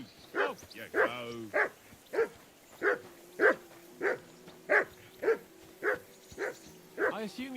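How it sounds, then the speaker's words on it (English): A dog barks repeatedly in Kingdom Come: Deliverance II, a steady series of loud, evenly spaced barks with a few yips, rising above a faint low hum. "I assume you can hear that damn dog of yours barking."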